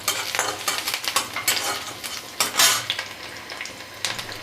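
Two dried red chillies and chopped garlic fry in hot oil in a pan while a utensil stirs them. Close, repeated scrapes and clinks sound over a steady soft sizzle, and no one speaks.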